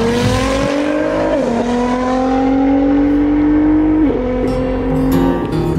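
A stock Ford F150 work truck with a naturally aspirated engine and a custom manifold races another car, its engine roaring loud and close and climbing in pitch through gear changes, with no voices.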